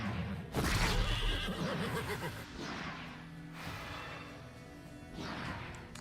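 Horse in the video game Wartales whinnying loudly in a sharp outburst, followed by battle clatter and thuds, then fainter whinnies later on.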